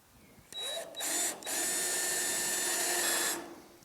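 A power drill whirs steadily into metal, drilling out spot welds on a Pontiac GTO quarter panel, starting in short bursts and then running continuously for a few seconds before winding down.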